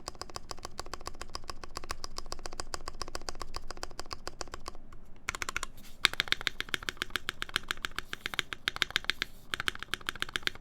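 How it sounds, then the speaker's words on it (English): Fast, continuous typing on a clacky mechanical keyboard with a poppy spacebar, close and crisp, with a short pause partway through before the dense keystrokes resume. "The spacebar sounds very poppy."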